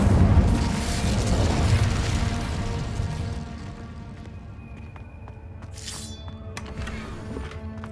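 An Incendio fire spell in the Hogwarts Legacy video game: a loud roaring burst of flame with a booming rush that slowly fades, followed by sparse crackles and faint clinks in a quieter tail.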